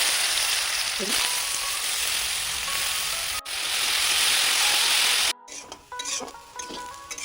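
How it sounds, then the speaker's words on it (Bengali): Potatoes frying in oil in a wok, a loud, dense sizzle that holds for about five seconds. After a short gap come quieter spatters mixed with scraping and utensil clinks. "এবার আলু ভাজবো।"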